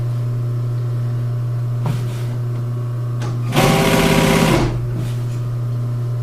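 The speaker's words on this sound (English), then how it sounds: "And I'm going to continue sewing my way down to the back corner." An upholstery sewing machine stitches a seam down a wing chair cover in one loud, steady burst of rapid whirring, set between quieter mechanical clicks over a constant low motor hum.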